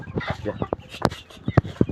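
Chickens cluck in short, choppy bursts nearby, several birds overlapping in a busy shed.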